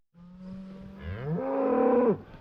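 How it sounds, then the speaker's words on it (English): Several calves bellow in a field, with loud drawn-out moos rising in pitch and overlapping, one long call swelling and cutting off sharply near the end. "So I got a few calves that are bellowing"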